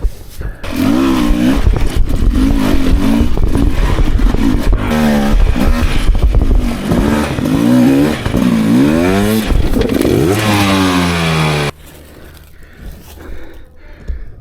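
A 2024 Beta 300 RR Race Edition two-stroke dirt bike ridden pinned at full throttle on a trail, engine screaming and rising through revs with shifting pitch sweeps, loud and close, before cutting abruptly to quieter idle and rustling.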